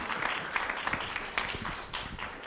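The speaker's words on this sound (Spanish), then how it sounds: "démosle un aplauso a Deirdre McCloskey" Audience applause at a Spanish-language book presentation of Deirdre McCloskey's "Las virtudes burguesas," a steady dense wash of clapping from a crowd lasting throughout, fairly even in level with no talk over it.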